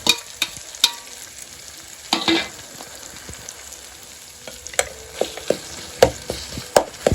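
Eggplant bhaji dropped into a hot pan for a rustic village-style bharit, bursting into a loud sizzle and frying hiss with sharp stirring clatters, fading then flaring again in several bright spits toward the end.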